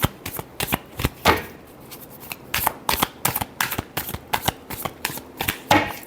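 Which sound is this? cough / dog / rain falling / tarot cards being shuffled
tarot cards being shuffled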